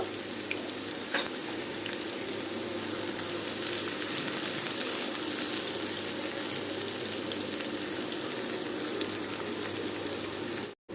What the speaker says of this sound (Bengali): অল্প একটু পেঁয়াজ দিয়ে এটাকে আমি ব্রাউন কালার করে একটু ভেজে নেব।